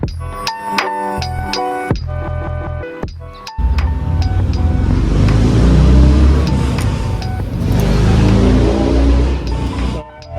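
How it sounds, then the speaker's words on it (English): A loud motorbike revs and roars past, its engine noise swelling into a sustained broadband rumble that stays strong for several seconds before cutting off, preceded by a brief stretch of tonal, music-like sound. "I like motorbikes, but just honestly, just be a little more quiet."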